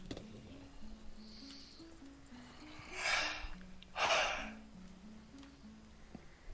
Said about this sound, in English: That was a yawn.